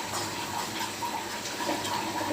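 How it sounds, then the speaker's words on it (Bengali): Water is poured into an eggplant curry simmering in a pan, making a steady, fairly loud continuous pouring and gushing wash across the whole moment with no pause. "তারপর আমি একটু সামান্য পরিমাণে জল দিয়ে দিব আর একটু সেদ্ধ হওয়ার জন্য।"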